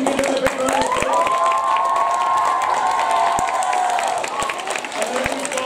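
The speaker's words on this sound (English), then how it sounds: "Stand up reception, give them a big round of applause." Audience applause and cheering for children in a 2021 nativity play, a steady dense wash of clapping with shouts and a voice rising over it throughout, close and loud.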